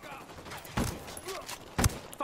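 Gunfire in the tactical shooter Ghost Recon Wildlands: two sharp, loud shots about a second apart, set among quieter game ambience and faint chatter.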